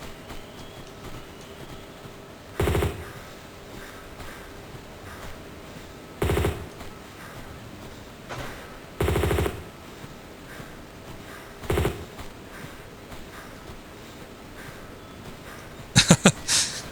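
Gunshots in Tomb Raider Remastered: several single loud blasts spaced a few seconds apart over a low, steady ambient hum, ending with a quick cluster of sharp shots.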